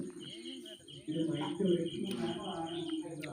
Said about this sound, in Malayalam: ഈ കിളികളുടെ സൗണ്ടൊക്കെ ലൈവ് ആട്ടോ